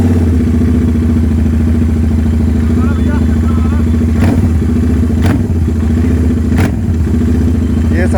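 A Royal Enfield GT 650 fitted with an SS Motocorp exhaust runs loud and close, its steady parallel-twin idle throbbing with a few sharp blips and pops scattered through.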